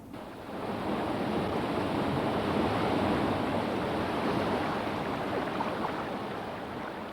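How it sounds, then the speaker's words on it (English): Water pours over a small waterfall into the stream below, a steady, dense rushing roar heard close and alone, with no voices. "As water flows over this fall, it carries some air with it into the stream below."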